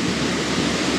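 Strong rushing water pours at the fourth tier of a deep waterfall in Ratchaburi, a loud continuous broadband roar up close with no break.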